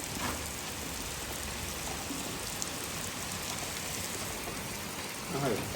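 Heavy rain pours steadily for hours over Punjab farmland with paddy and fodder fields, a dense, even hiss that holds constant, with a faint voice briefly near the end.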